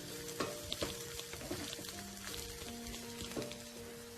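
Vegetable fried rice being tossed in a hot pan, a soft continuous sizzle with light scraping and clinks of the utensil against the pan, fairly quiet and without talk.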